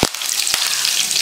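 Cumin seeds and curry leaves sizzle in hot oil, a loud, close, hissing crackle filling the whole moment, with a couple of sharp pops as the leaves hit the pan.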